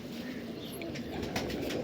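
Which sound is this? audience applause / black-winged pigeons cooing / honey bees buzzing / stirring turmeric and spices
black-winged pigeons cooing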